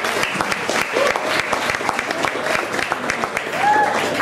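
An audience at a Tel Aviv lecture venue breaks into sustained applause, dense clapping filling the room, with a few scattered voices and whoops among the crowd.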